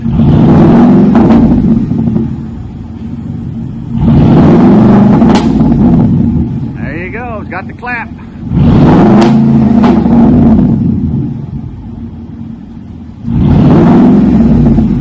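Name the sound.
pickup truck V8 revving with straight pipes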